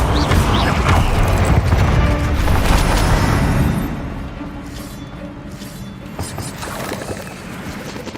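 Bombarda blasting spell in Hogwarts Legacy: a loud booming explosion with crashing, shattering debris at the start, then a lower rumbling tail and scattered clatter as it fades.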